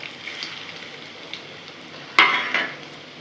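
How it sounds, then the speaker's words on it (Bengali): Bora fritters frying in a pan over a medium-low flame, with a soft, steady sizzle and a sharp clink of a utensil against the pan, followed by a brief louder spatter. "উল্টো পাল্টে আমি বড়াগুলো ভেজে নিচ্ছি মুচমুচে করে।"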